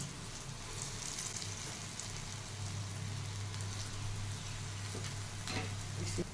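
Dahi vada batter frying in a small amount of hot oil over a medium flame, giving a steady close sizzle with light crackle throughout and occasional faint stirring.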